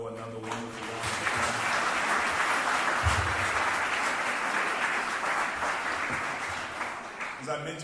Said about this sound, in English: Let's give Dr. Diallo another wonderful round of applause.